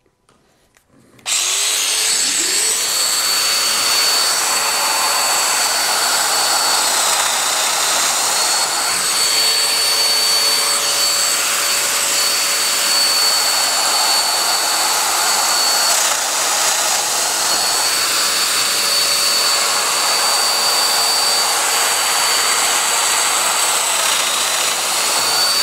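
Festool Domino DF 500 joiner spinning up and cutting mortises for a butted panel joint, a loud continuous high-pitched whine with a steady roar that holds for over twenty seconds.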